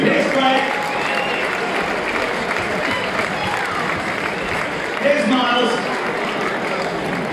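An audience at a comedy event at Lord's gives a dense round of clapping that holds steady all the way through, with voices talking over it.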